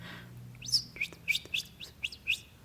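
Several quick high bird chirps, sharp and bright, follow one another against a quiet low hum.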